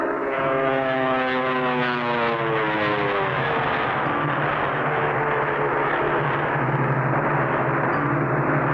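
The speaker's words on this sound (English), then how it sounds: "I think I heard another plane." A cartoon propeller airplane drones steadily in flight, a loud continuous engine hum with a rising and falling pitch, close and alone without talk.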